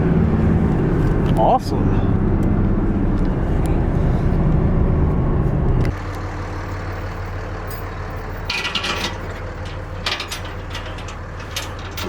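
Diesel engine in a stock Cummins-powered truck revving hard to roll coal, a loud, close, steady roar that drops to a lower idle, with a person briefly speaking.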